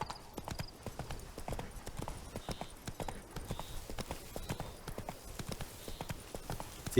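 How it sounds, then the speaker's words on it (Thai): Horse hooves in The Witcher 3 video game clip-clopping in a steady walking rhythm, crisp and fairly close, with faint game ambience underneath. "ได้ยินเสียงม้า"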